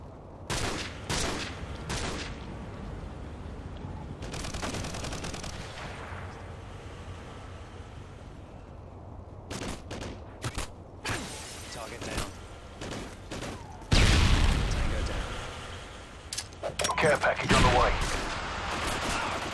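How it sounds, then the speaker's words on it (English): Gunfire in a team deathmatch on the Quarry map, with repeated sharp shots and bursts scattered across the scene over a steady background rumble, plus a louder, denser volley near the end. "Guy shooting out of the big building,"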